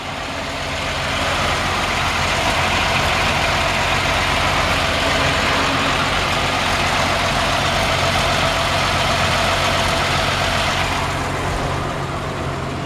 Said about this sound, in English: Pop the hood here and let you hear the engine run.